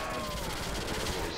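Rapid Glock pistol fire in Call of Duty custom zombies crackles densely throughout a brief stretch, loud and continuous with game noise layered around it.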